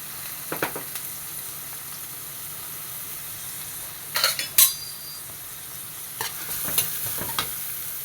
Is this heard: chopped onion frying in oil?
yes